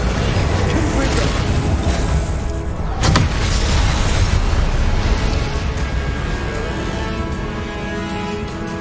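A Confringo fire blast spell from Hogwarts Legacy, a video game, roars as a loud, dense explosion with a sharp crack partway through. A continuous rumbling blast fills the whole stretch.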